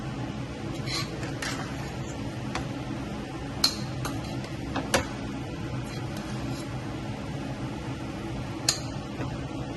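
Avakaya biryani stirred in a pressure cooker, a steady background hum with occasional soft clinks and scrapes of a utensil against the metal pot, no talking.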